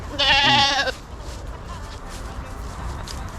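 A goat lets out one loud, wavering bleat up close in cold Canadian weather, then the sound fades to quiet outdoor background noise.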